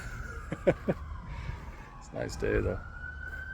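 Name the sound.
distant emergency sirens in Toronto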